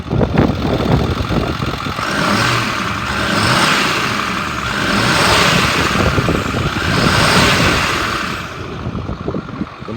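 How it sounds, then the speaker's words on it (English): A 2010 Ford F-550 XL utility truck with a 6.4L diesel engine revs up three times in slow, swelling waves over a steady idle, loud and close, with no talking. "I'm gonna rev it up so you can hear the motor."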